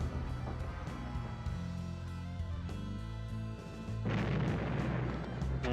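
Weapon fire in the strategy game Final Liberation: Warhammer Epic 40k, heavy booming bursts rolling over a sustained droning backdrop, with a louder blast arriving near the end.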